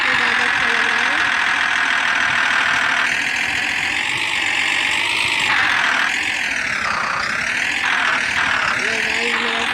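Modified Swaraj tractor stuck in place, its engine running loudly and revving up and down in repeated surges of pitch.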